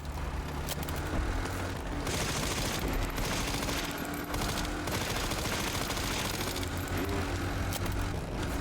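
Rapid automatic gunfire and bursts of shots from the video game Resident Evil Requiem, loud and dense throughout, with booming impacts layered over continuous game noise and no talking.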